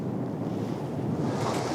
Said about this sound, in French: Ça commence à souffler là-haut, il y a du vent.